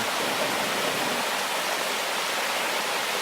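A waterfall in Ssanggok Valley pours in a steady, dense rush of falling water that fills the whole scene, close and unbroken, with no voices.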